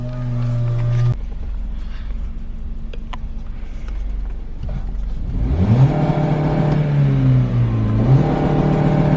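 A twin-turbo 2JZ-powered Toyota Corolla idles roughly, then its engine revs up hard into a loud, wavering rising and falling drone close by.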